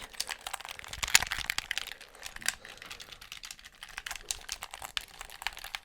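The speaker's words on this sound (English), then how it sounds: "just enjoy those button clicking sounds" Plastic buttons click irregularly in quick bursts, light and close, with small pauses between clusters of taps and no voices.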